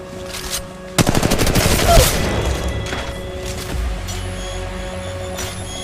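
Gunfire in the video game Apex Legends Mobile, with a loud, rapid burst of automatic shots followed by a booming impact, then quieter scattered shots and in-game sounds fading into the background.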